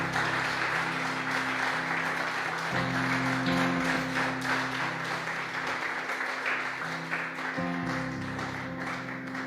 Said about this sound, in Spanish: hay que darle un aplauso al Señor